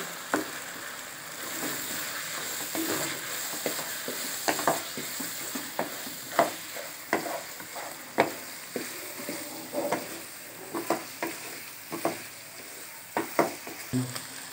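Chili flakes, turmeric, black pepper and salt being stirred into chicken keema in a hot pan: a steady sizzle with a regular run of spoon scrapes, moderately close.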